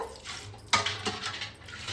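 A brief splash of water poured into a copper glass, with a short gush and faint trickle against quiet background.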